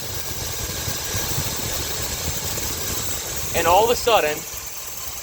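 Car engine running rough with its mixture control solenoid plugged in, a steady close idle with an uneven, knocking rumble throughout, while someone talks over it near the end.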